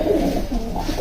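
A pigeon of a nine-feather flying breed coos softly and steadily at close range, a low rolling warble with no other sounds over it.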